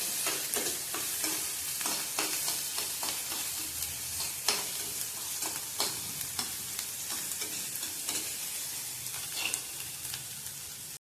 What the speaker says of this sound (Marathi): शेकलेलं लसणाच्या 3-4 पाकळ्या घेतल्या। हे चांगलं तेलात भाजून घ्यायचं आहे।